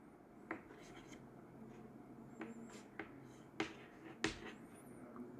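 Chalk or marker strokes on a classroom board, a handful of faint scratchy taps and scrapes spaced irregularly against a quiet background.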